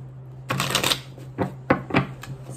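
A deck of tarot cards is shuffled up close in several quick, crisp riffling bursts separated by short pauses, with no talking over them.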